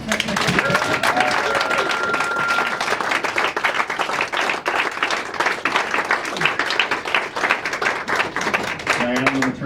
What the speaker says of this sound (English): how about one more big round of applause for 80-year-old Hank